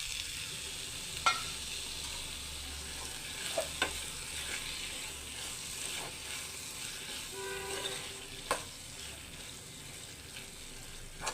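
Cleaned oysters (kalwa) fry in a pan of partly cooked masala, with a soft continuous sizzle and occasional scraping clinks from a spoon stirring, fairly quiet and close.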